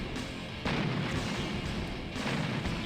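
Artillery and gunfire pound a canal in the Command & Conquer: Red Alert beta, Allies mission 9b: a dense, continuous roll of heavy booms and blasts, loud and close, swelling in two waves with no pauses.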